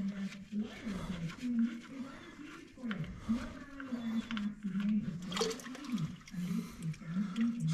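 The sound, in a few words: fluid draining out of an MF 35 tractor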